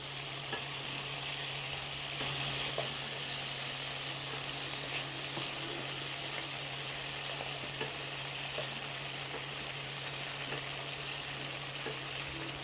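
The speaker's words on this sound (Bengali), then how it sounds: "চিংড়ি মাছগুলো আমার ভাজি হয়ে গেছে, এখন আমি উঠিয়ে নেব।" Shrimp fry in hot oil in a pan, giving a steady, soft, continuous sizzle and hiss with faint crackles throughout, fairly quiet and with no voices.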